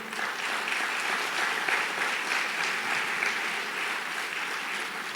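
A church congregation applauds during a sermon, producing a steady, full wash of clapping that holds evenly throughout at moderate distance, with no voices rising above it.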